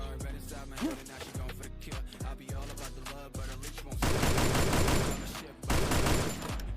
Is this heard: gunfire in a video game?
yes